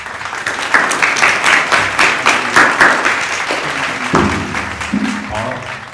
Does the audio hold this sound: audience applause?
yes